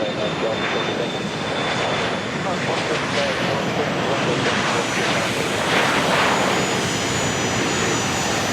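A private jet takes off from runway 16 right at Van Nuys Airport, its broad engine roar loud and steady throughout, with a thin high whine above and radio voices faintly under the noise.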